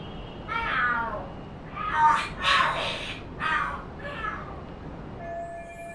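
Cats in the video game Lost Judgment yowl and screech at each other in a string of drawn-out, wavering cries that rise and fall over several seconds, fairly close and loud.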